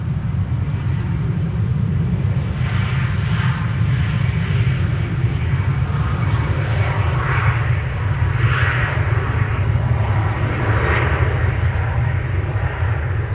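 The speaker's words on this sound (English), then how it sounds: "No, wait, it's not an E2, it's an Embraer 190." An Embraer 190 jet airliner at Amsterdam Schiphol Airport in fog and low cloud, its engines giving a loud, steady broadband roar that holds constant throughout with no talk over it.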